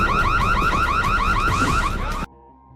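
A car alarm sounds at a neighbouring house in a prison-break TV drama, a loud, rapidly repeating electronic warble cycling steadily for about two seconds before cutting off abruptly into quiet low background.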